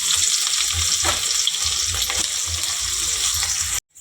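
Onion sizzles in hot oil with cinnamon and poppy seeds, giving a loud, steady frying hiss with some stirring. The sound cuts out briefly near the end.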